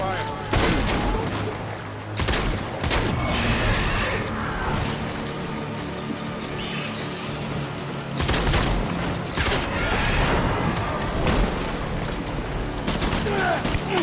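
Heavy gunfire rages in Death Stranding, dense bursts and booms filling the scene almost continuously, with loud impacts around 2, 8 and 10 seconds and voices shouting beneath.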